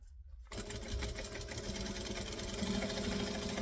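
Sewing machine stitching a seam from bottom to top on a garment edge, a steady close motor whir starting abruptly after a brief silence and running continuously.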